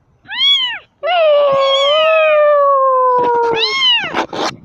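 Kittens give loud, close meows: a short rising-falling cry, then a long drawn-out wavering meow, followed by another meow and a few scratchy bursts, with no talking.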